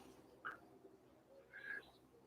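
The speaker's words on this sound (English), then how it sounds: "there's some bird" A bird calls outdoors after rain, two short faint chirping notes set apart against quiet background ambience.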